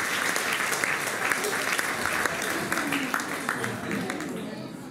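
Audience applause for a man at a live presentation, a dense, steady roar of many hands clapping from a seated crowd, with voices mixed in and the clapping easing slightly near the end.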